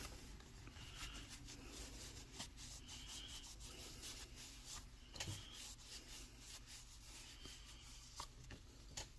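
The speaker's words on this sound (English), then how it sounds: "just take an extra cloth, clean cloth preferably, and just rub it good." A clean cloth rubs hard over a sand casting, a faint, continuous dry scrubbing with quick back-and-forth strokes, close and steady.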